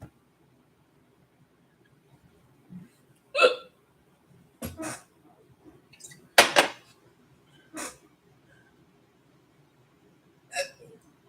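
A person hiccups about six times, sharp isolated bursts spaced a second or two apart in a quiet room with faint low background hum.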